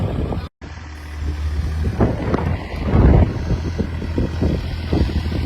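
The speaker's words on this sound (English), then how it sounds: "trying to stay out of the wind so you guys can hear me." Wind at a lakeside buffets the microphone with a loud, continuous low rumble and gusty roar that swells near the middle. No voices can be heard.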